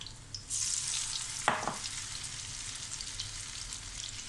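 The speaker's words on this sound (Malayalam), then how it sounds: "ഇതിലൊന്ന് ഡിപ്പ് ചെയ്ത ശേഷം ഫ്രൈ ചെയ്യണത്." Battered barracuda pieces fry in hot oil with a steady, close sizzle, broken briefly by one clattering scrape.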